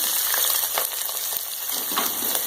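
Three medium sliced onions sizzle in hot oil in a pan, a steady bright frying hiss running throughout with a few soft stirring scrapes, close and fairly loud, no voices.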